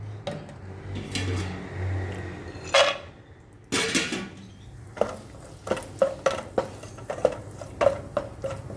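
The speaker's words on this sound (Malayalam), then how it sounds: "ഇനി നമുക്ക് കുറച്ച് കാഷ്നട്ടും കുറച്ച് കിസ്മിസും ഒന്ന് വറുത്തെടുക്കാം ഈ നെയ്യിൽ" Cashews and raisins are stirred in ghee in a pan, with a spoon scraping and clinking in a regular rhythm over a faint sizzle, close and clear.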